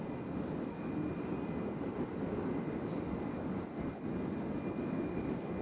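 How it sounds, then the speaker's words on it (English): An American Airlines airliner taxiing at Nashville airport, a faint, distant, steady engine rumble and whine holding evenly throughout. "As we got an American taxiing out."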